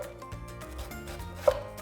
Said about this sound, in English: And now we're gonna slice it as thin as we can.